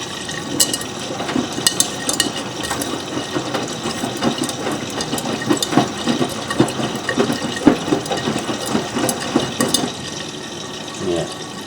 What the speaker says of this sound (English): I think it's going to be a low level rinse